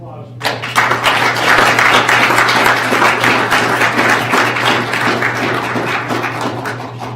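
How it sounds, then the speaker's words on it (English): A crowd claps steadily and densely at the close of a board meeting. The applause starts abruptly and holds for several seconds, then slowly thins, with a low electrical hum underneath and scattered voices. "One more round of applause."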